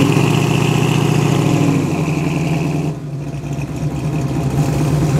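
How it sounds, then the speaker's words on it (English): A classic Ford Mustang with a manual gearbox idles close by at an outdoor classic car show, its steady, throbbing low rumble running throughout with a slight dip partway through. "The lovely sound of the Mustang."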